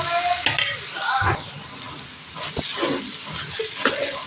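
A spatula scrapes and stirs carrot poriyal with grated coconut in a pan, with soft sizzling and a few metallic clinks in irregular strokes, close and fairly loud.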